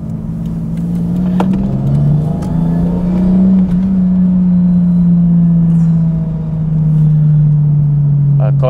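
Japanese-import Toyota Supra engine accelerating, a steady loud drone that rises gradually in pitch and holds, heard from inside the car with brief bits of talk.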